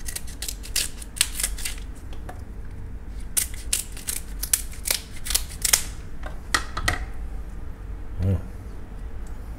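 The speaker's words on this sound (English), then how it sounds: "Then I'm going to use the scissors." Kitchen scissors snip through crab legs for a sushi dish, a run of sharp crisp cracking cuts at close range, coming in quick irregular bursts with short pauses between them.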